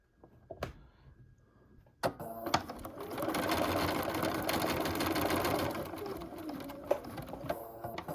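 A sewing machine stitches a handmade bag, starting after a couple of clicks and then running in a steady close whir for several seconds before slowing, with a few sharp taps near the end.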